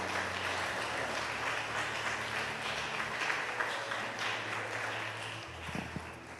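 A church congregation applauding, a steady wash of many hands clapping at moderate distance, with a low background hum that fades out near the end.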